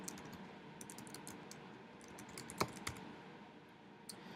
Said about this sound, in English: You can type in the full link